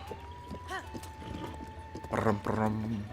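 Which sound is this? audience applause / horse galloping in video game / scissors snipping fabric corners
horse galloping in video game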